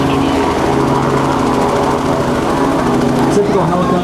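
Robinson R44 helicopter at an air show demonstration, its engine and rotors making a loud, continuous buzzing drone with a steady rapid chop throughout.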